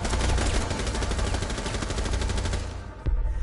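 Rapid automatic gunfire with heavy recoil in a competitive shooter match, a dense, loud burst that rattles on for nearly three seconds before cutting off, followed by one last sharp crack.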